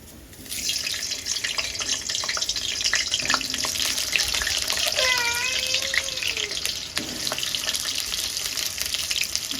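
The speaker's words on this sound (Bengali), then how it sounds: "তেলটা আমার গরম হয়ে গেছে এবার আমি আলুটা এতেই ভেজে নেবো" Potatoes frying in hot oil in a home kitchen, a steady broadband sizzle running close and continuous for the whole stretch, with a few brief tonal squeaks mid-way.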